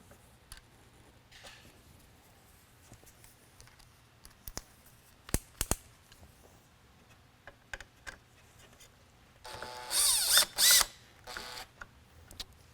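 Small screwdriver bit backing screws out of the rear of a Code 3 420 Beacon Mini lightbar, giving scattered faint ticks and clicks followed by a short, louder burst of ratcheting mechanical rattle near the end.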